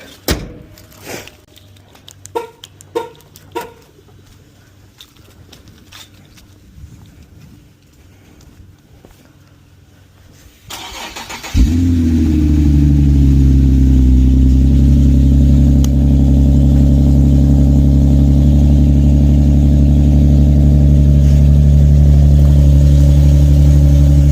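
A few clicks and rattles, then an Infiniti FX37 engine cranks and catches, settling into a loud, steady, rumbling idle close by.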